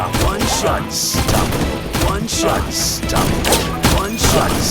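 Sniper rifle shots from the Sniper Arena video game fire in a steady rhythm, one sharp crack roughly every second, loud and close over a busy game soundscape with a constant low rumble beneath.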